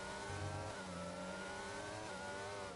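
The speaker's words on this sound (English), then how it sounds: "Mercedes engine versus Mercedes engine here." Mercedes-powered race cars in a racing video game drone with a steady, faint engine tone that shifts pitch slightly as they run together.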